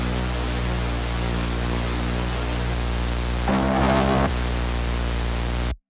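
Dry static hiss from a Super VHS effect pedal, a dense, steady wash of noise with humming tones underneath, a brief louder burst near the middle, then a sudden cutoff.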